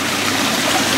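Air bubbler in a pond filter lifting water from the bottom up to the surface, giving a steady, close, continuous bubbling and water-movement rush with no talk.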